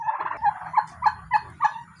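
Turkeys in a pen gobble close by in a rapid rhythmic series of about five warbling calls at even intervals, over a low background murmur.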